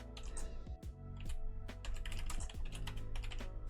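Steady rapid keystrokes on a computer keyboard as a homework question is typed into an AI chatbot, close and clear with no talking over them.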